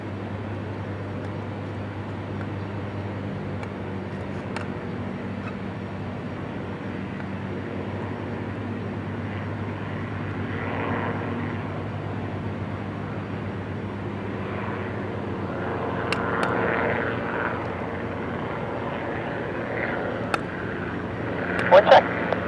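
A twin-engine Cessna airplane taking off, a steady low engine drone and rumble heard from a distance, with radio-style talk from air traffic control running over it throughout.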